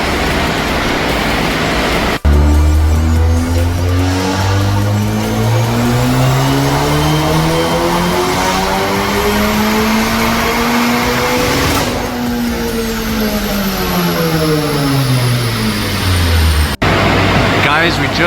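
A turbocharged 10th-gen Honda Civic Si with a built engine and big turbo, running on ethanol, does a loud dyno pull: the engine note climbs steadily for about fourteen seconds, peaks, then winds down before cutting off.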